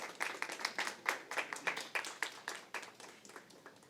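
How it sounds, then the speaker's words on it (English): Applause for three candidates at Taiwan's 2021 Best Sommelier Competition, a brief patter of clapping from a modest audience, uneven and moderately loud, fading slightly toward the end, with no voices. "So please applause again for all 3 candidates for today."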